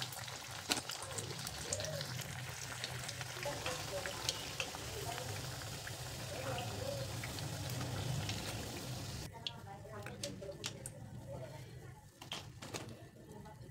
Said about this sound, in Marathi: अशाच पद्धतीने आपल्याला सर्व वड्या तळून घ्यायच्या